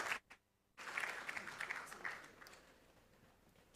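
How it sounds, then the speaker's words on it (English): Faint audience applause rises after a short gap following a speech at a peace and security summit, holding briefly and then tapering off into the distant hall. "Please, another round of applause for him"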